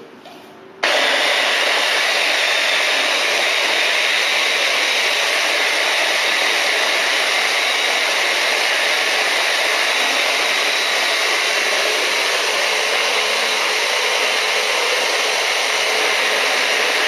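An electric food chopper blitzes olives and peppers for an olive and pepper pâté, a loud, steady, close motor whir that kicks in after a brief quiet moment and runs continuously to the end.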